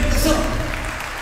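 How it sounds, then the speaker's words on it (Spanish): Applause for the string section of the Orquesta Sinfónica Municipal de Barreto, dense clapping from a crowd that fills the short stretch at a loud, even level. "Y salva de palmas para nuestras cordas."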